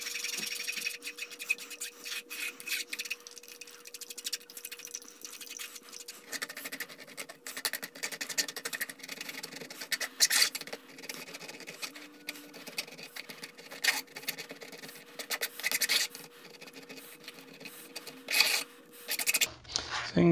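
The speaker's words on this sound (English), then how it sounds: "with that mixture is you push all of it through the sieve as much as you can get through using a" A spoon scrapes and rubs a lemon mixture through a mesh sieve in irregular, scratchy strokes, close and fairly quiet, over a faint low hum.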